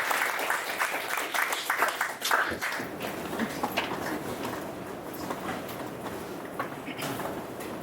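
Audience applause welcomes two speakers onto a conference stage, a dense wash of clapping that is strongest at first and then gradually thins over roughly eight seconds.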